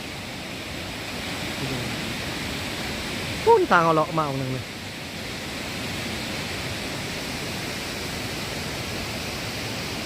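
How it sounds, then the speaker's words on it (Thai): A forest stream flows with a steady, even rush of broadband water noise throughout, briefly overlaid by someone talking near the middle. "โอ้ยน้ำไหลจะคักยุ่แถวนี้"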